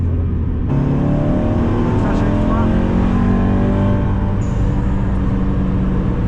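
A car's engine screams at full throttle as it is driven hard around a race track, a rising, harmonic-rich whine that climbs in pitch and stays loud throughout, with people talking over it inside the car.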